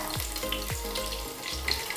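Curry leaves and garlic tempering in hot oil for a home-style Mangalorean recipe, a steady close sizzle with repeated sharp crackling bursts and spits, no voices.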